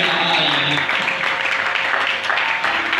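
A church congregation applauds and acclaims the Lord, a steady wash of clapping and cheering voices, loud and continuous throughout.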